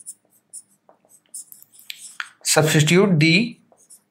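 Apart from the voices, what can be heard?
writing on paper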